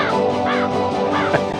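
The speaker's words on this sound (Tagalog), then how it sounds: "grabing uwak to ah" A crow caws several times nearby, harsh rasping calls repeating over a steady background hum, with no talk.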